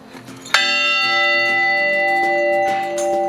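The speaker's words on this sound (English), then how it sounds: "they even let me ring the church bells" A single loud church bell strike in Gjirokastra, Albania, rings out and hangs in a long, shimmering resonance that slowly fades, with no talking.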